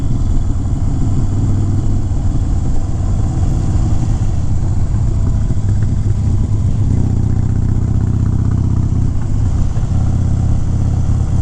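A motorcycle rides a twisty, damp road, its engine droning steady and loud up close with gentle throttle easing and mild pitch shifts, plus wind rush.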